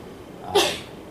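A single sharp human sneeze, close and fairly loud, bursting out abruptly against a quiet room with no talk around it.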